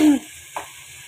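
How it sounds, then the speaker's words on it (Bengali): Tomatoes frying in a pan give a brief loud sizzle and scrape as they are stirred, then fade to a faint hiss with one small clink. "এখন আমি এটাকে খুব ভালো করে একটু পাকিয়ে একটু ভেজে নেয়"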